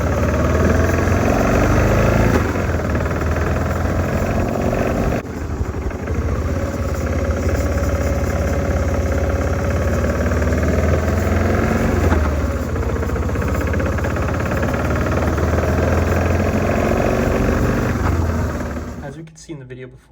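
BMW motorcycle engine idling on its kickstand, a loud, steady, vibrating drone that runs nearly unbroken for about twenty seconds before cutting off, with speech-like sound mixed in over it.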